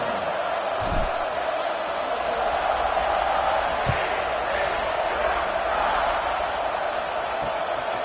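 Steady roar of a college football stadium crowd at TCU as the kickoff approaches, a broad continuous wash of cheering with a few sharp thumps, heard beneath the broadcast.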